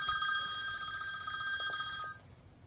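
A telephone bell rings steadily and fairly loud for about two seconds before cutting off, in an indoor setting during a makeup session, with no talk over it.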